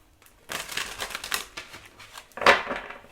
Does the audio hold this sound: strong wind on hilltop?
no